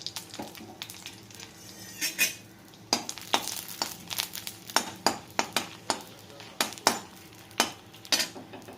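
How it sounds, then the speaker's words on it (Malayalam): Four dried red chillies fry in a spoonful of oil while a spoon knocks and scrapes around the pan in a run of sharp clinks over a soft, steady sizzle. "ഇനി ഒരു നാല് വറ്റൽമുളക് ഇട്ട് നന്നായി നമുക്കൊന്ന് ഫ്രൈ ആക്കി എടുക്കാം"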